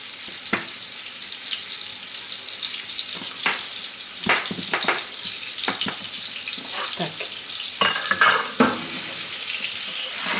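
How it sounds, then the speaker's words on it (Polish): Flour-coated pork neck cutlets frying in a pan, a continuous close sizzle broken by scattered clicks and clatters of handling throughout. "obtaczamy w mące i będziemy obsmażać na patelni"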